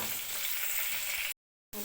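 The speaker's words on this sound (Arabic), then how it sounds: "هنا كده الصينية حطينا فيها معلقة سمنة، هننزل بقى بالبصل كده مقطعين جوليان" Julienned onions fry in a spoonful of ghee in a pan, giving a steady, close hiss that cuts out abruptly for a moment before resuming.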